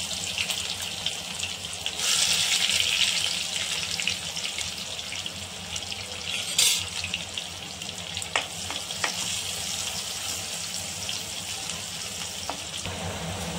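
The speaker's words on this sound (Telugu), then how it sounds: "ఇప్పుడు ఉల్లిపాయ ముక్కలు వేసుకోవాలి." Onion pieces fry in a pan with cardamom, giving a steady close sizzle with occasional stirring scrapes and no talking.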